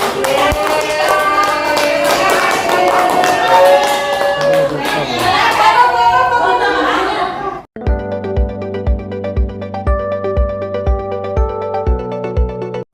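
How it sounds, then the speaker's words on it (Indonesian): Teachers at a school event in Indonesia clap together, a dense wash of hands mixed with voices for about eight seconds before it breaks off and a rhythmic piano-like tune with a steady bass pulse takes over. "tepuk tangan buat"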